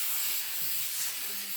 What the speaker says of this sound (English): spray it like this. Try to evenly coat it.